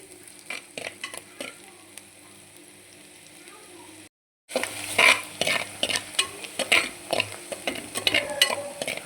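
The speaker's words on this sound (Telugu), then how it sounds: "ఆనియన్స్ అనేది ఇంకొంచెం బ్రౌనిష్ కలర్లో వేయాలన్నమాట" Onions fry in a pan with a steady sizzle while a utensil scrapes and clinks against it in repeated stirring strokes, broken by a brief gap of silence.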